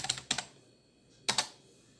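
Keys on a computer keyboard are typed in a quick burst of clicks, then a pause, then another short pair of keystrokes, close and clear in a quiet room.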